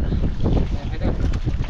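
Strong wind buffets the microphone on a small fishing boat at sea, a dense, continuous low roar with gusty surges, close and loud, with no clear voices over it.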